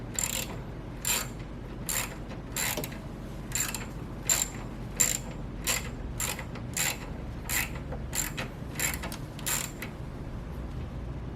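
A ratchet wrench cranks a bolt down on the reservoir of a 2019 Subaru WRX STi, giving a steady run of about a dozen crisp clicking bursts at an even pace, close and clear, with no talking.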